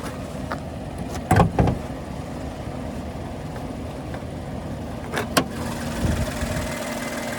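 A 2025 Nissan Armada PRO-4X's twin-turbo V6 idles quietly and steadily with the hood open, a low even hum broken by a couple of brief louder knocks or clunks nearby.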